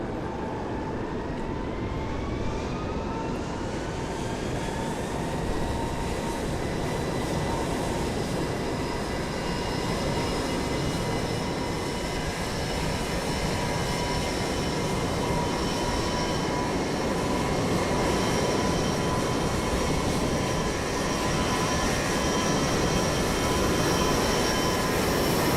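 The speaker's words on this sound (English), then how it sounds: "Here goes the 321 Neo." Airbus A321neo airliner in Microsoft Flight Simulator 2020 passing at Lisbon airport, a steady broadband jet roar with rising whining engine tones that level off and hold loud for the whole stretch, no talk.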